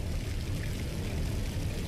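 Continuous rushing, pouring water from a level in the shooter game Unreal, a steady broadband wash with a low rumble, fairly loud and unbroken with no voices.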